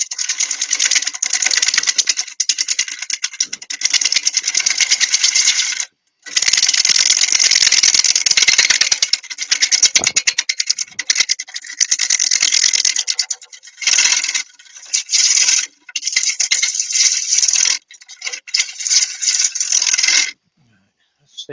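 A wood-turning lathe cutting with a 3/4 inch gouge gives a sustained bright scraping, chattering whir with a few short breaks, loud and close.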